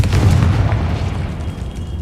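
Bombarda and Confringo explosive spell blasts in Hogwarts Legacy, a deep rumbling boom that stays loud and sustained before slowly easing off, heard alone.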